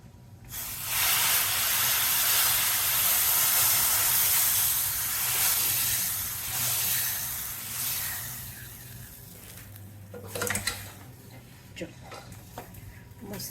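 Spices including coriander-cumin powder, red chili powder and garam masala hit hot oil for a tempering with a loud, steady hiss and sizzle that eases after several seconds into quieter crackles and a few sharp utensil clinks.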